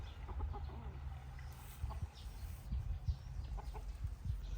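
A chicken near its coop gives a few faint, scattered clucks over a low background rumble.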